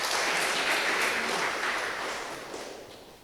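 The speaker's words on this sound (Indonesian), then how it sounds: "Yang setuju berikan tepuk tangan buat Tuhan Yesus" A church congregation claps during a sermon, a soft, fairly distant wash of applause that swells briefly and then gradually fades.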